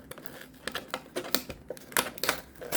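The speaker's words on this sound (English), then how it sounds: "If I can get this tape off." Tape being peeled and torn off a Lego Avengers vs Defenders brick box, heard as a series of sharp, irregular crackling rips and snaps, close up with no talking.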